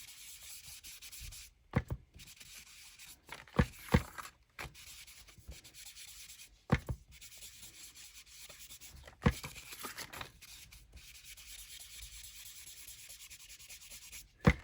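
Oxide walnut stain ink being rubbed around the edges of junk journal pages, a quiet scratchy scrubbing broken by soft taps and knocks, close up with no voices.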